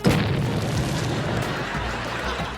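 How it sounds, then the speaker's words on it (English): Loud booming blast of an exploding rice cereal bowl in a comedy sketch's fake TV commercial, a sharp burst at the start followed by a rumbling, noisy decay that fills the whole moment. "I guess he just wanted to feel the full effect of a rice cereal blast."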